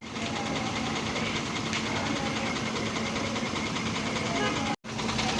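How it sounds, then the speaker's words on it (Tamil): Rear-mounted engine of a 12-metre TNSTC bus, heard as a steady, loud diesel rumble with an even mechanical clatter, continuous apart from a brief dropout near the end. "வாங்க உங்களுக்கு நான் இந்த வண்டியோட இன்ஜின் சவுண்ட் உங்களுக்கு காட்டுறேன்"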